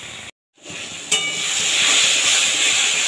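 Poa bhola fish in a mustard oil masala with spring onion greens, sautéing hard in a pan, a loud steady sizzle that swells after a brief pause and a sharp clink.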